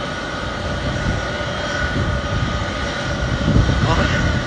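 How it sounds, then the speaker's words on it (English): Jet engines of a C-5 Galaxy military transport aircraft at Louisville, Kentucky airport make a steady, loud broadband roar that swells slightly near the end, with people talking over it. "Look at this jumbo, man. That's the Galaxy."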